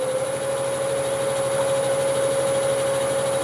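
A wood lathe spins a cherry crotch blank at about 600-700 RPM, a steady motor hum with a constant tonal whine and no cutting, continuous and close.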